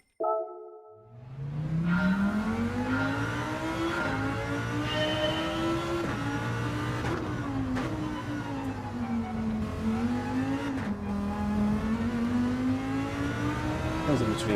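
A race car engine in Gran Turismo 7 drones loud and continuous, climbing and dipping in pitch through gear changes, with tyre noise underneath and no talking.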